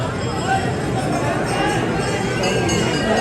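A dense crowd of devotees at the Sheetla Mata temple in Gurgaon fills the space with a steady hubbub of overlapping voices and occasional faint clinks, continuous and moderately loud throughout.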